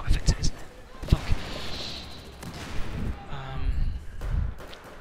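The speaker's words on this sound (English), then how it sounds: "So many explosions in this game." Repeated sharp bangs and booming blasts from game combat, punctuated by gunfire bursts, with a voice talking over the chaos.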